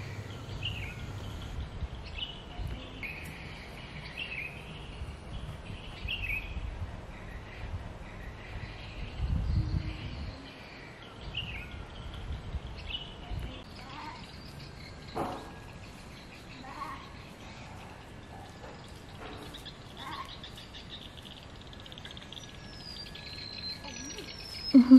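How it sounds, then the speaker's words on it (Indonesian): Many birds call in a garden in Palangkaraya, scattered chirps and short trilling songs coming and going over quiet ambience, with occasional low thumps and handling noises nearby. "Makanya kalau kalian dengar banyak suara burung ya."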